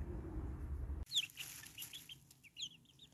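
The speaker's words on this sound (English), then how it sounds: "So we've gone and got two tiny little chicks." Two tiny baby chicks, one a frizzle Pekin bantam, chirp indoors in a brooder: a string of high, quick peeps close by, after a short burst of rustling noise, with no talking.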